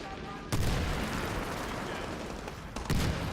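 Gunfire in the video game Medal of Honor Warfighter, a steady dense burst of shooting with two heavier impacts near the start and close to the end.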